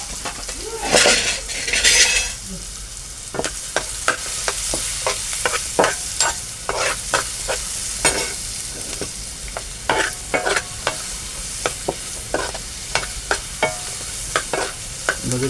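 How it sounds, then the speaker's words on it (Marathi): Finely chopped onion fries with asafoetida in a pan, a bright sizzle broken by frequent metal spoon scrapes and clinks against the pan in an irregular stirring rhythm, close and without speech. "थोडीशी हिंग आणि आपला बारीक चिरलेला कांदा. तर तो ह्याच्यात ॲड करतो. कांदा जरा गुलाबीसर आपण करून घेऊ."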